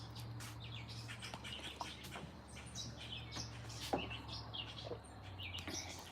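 Birds chirp outdoors in a quiet backyard, with scattered faint, distant tweets and calls over a low steady hum and no talking.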